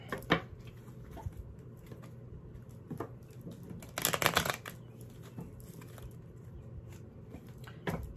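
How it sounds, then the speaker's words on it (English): Tarot cards are shuffled by hand in a quiet room, giving several soft riffling bursts with a louder, denser flurry partway through; no one speaks. "Three more shuffles."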